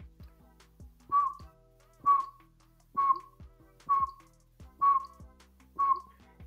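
Six evenly spaced single whistled notes, a human imitation of a pygmy owl's call, each short and clear with brief pauses between.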